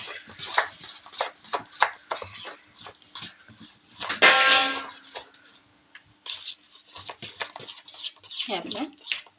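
A spoon beats bhaji batter with added oil around a bowl, making quick, uneven tapping and scraping strokes up close, with a voice talking briefly partway through.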